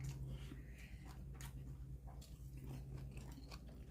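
Close, quiet biting and chewing while eating Korean dishes of janchi guksu noodles, radish-salad bibimbap and stir-fried julienned potato, with soft crunches and wet mouth sounds over a low steady hum.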